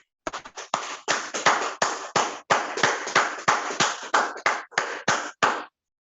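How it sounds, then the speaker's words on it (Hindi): Audience claps in distinct rhythmic bursts at a shopping event in Malda, West Bengal, about a dozen sharp, loud slaps in quick succession, then silence. "जोरदार तालियां यहाँ पर अहमदुल अंसारी और उनकी टीम मिस्टर नसीम जी के लिए"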